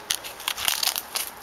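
Old birch bark crunching underfoot near an abandoned lakeside cabin, a quick series of dry crackling crunches, close and fairly loud, with no talking.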